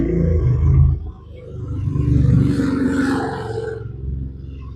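A loud truck rig roars past close by, a deep rumbling engine that swells, dips briefly, then builds again and fades slowly over several seconds with no talk.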